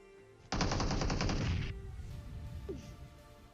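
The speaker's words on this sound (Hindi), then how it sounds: "इतने में जो मुझे आते हैं कुछ हल्के हल्के फायरिंग शॉट सामने की तरफ से" Burst of rapid automatic gunfire in the PUBG battle royale game, a loud continuous volley of about a second, then a quieter tail with a faint distant whistle-like sweep.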